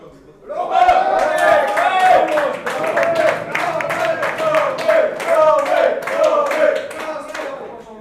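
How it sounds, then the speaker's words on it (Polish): Loud, sustained applause with dense, rapid hand clapping from an indoor audience at a cycling season-summary gathering in Karpacz, lasting several seconds at a steady level with voices mixed in. "brawa dla Romka, gromkie brawa"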